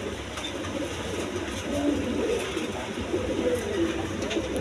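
A pair of imported Danish pigeons with leg rings coo in soft, repeated low phrases over a steady background hum, close but faint.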